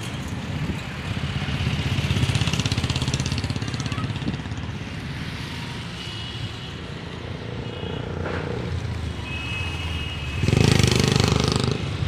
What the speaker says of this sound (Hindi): इस ट्रैक्टर का मॉडल 735 FE, मॉडल 2008।